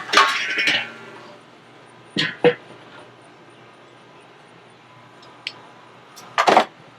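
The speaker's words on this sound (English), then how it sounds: "lid back on" A Weber kettle grill's metal lid is set back in place with a couple of quick clanks, and a sharper clatter follows near the end. Each clank stands out against a quiet outdoor background.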